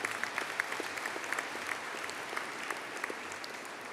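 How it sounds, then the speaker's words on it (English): Steady audience applause at an engineering and informatics graduation ceremony as a graduate returns to his seat, many hands clapping in a moderate, even patter for the full few seconds. "Could I please have a collective round of applause for Liam as he returns to his seat"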